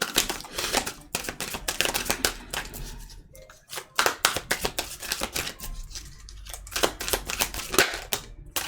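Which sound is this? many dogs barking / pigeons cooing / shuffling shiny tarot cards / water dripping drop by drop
shuffling shiny tarot cards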